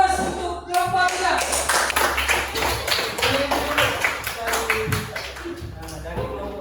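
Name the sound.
applause for the group in class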